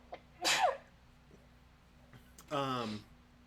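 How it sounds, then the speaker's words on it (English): A single person sneezes at a table, preceded by a sharp breathy intake and followed by a voiced burst, close and fairly loud in a quiet room. "I have a sneeze."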